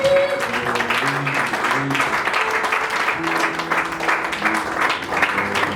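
A church congregation applauds steadily and loudly in praise, dense clapping that fills the room, with voices and sustained tones underneath.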